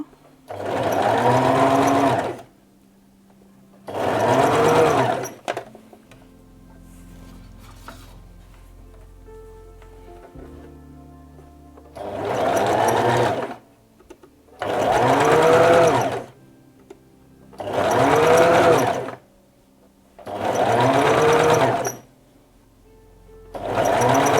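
A sewing machine stitches a pyjama seam in six loud bursts of rapid, whirring needle action, each lasting a couple of seconds, separated by quiet pauses with faint handling noise, close up.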